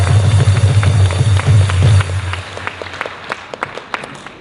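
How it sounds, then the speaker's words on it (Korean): An audience bursts into applause to welcome the Christian Liberty Party leader Go Young-il at a rally, loud and dense at first, then thinning out into scattered claps. "박수하겠습니다"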